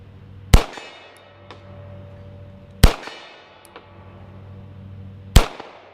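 A Beretta 92S pistol fired one-handed at 50 yards, three loud close shots a couple of seconds apart, each with a ringing tail and a faint clink after, no talking.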